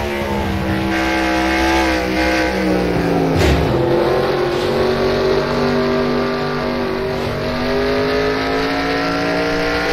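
Race car engine in a sim racing game at Charlotte, loud and continuous with rising and falling revs through gear changes and one sharp dip mid-way, alone without talk.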